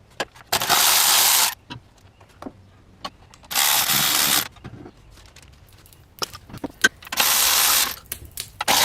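A ratchet works loose the throttle body on a procharged 2005 Trailblazer, its rapid clicking coming in three separate bursts of about a second each, close and crisp, with quiet handling noises between them.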